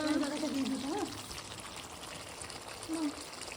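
Water is poured from close by into a pot of potato and chicken curry, making a faint, steady splashing under a brief voice.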